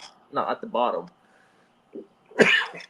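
A short, sharp sneeze bursts out close by after a brief pause, following a few words of speech.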